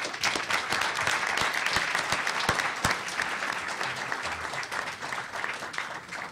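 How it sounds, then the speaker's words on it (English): Audience applause at a 2015 presidential debate hosted by Saint Leo University, a dense, steady wash of many clapping hands filling the room, loud and continuous without any speech over it. "Please give yourselves a round of applause."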